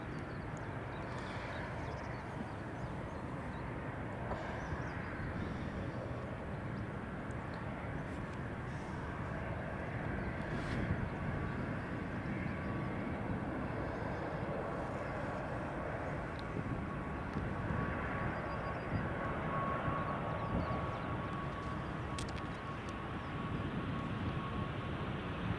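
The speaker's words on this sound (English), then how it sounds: "next up is an ATR 72-600, I think, unless it's a 42." An ATR 72-600 turboprop at Edinburgh Airport, a steady broadband engine drone with a faint propeller tone that holds at a fairly even level for the whole stretch, heard from some distance with no talking over it.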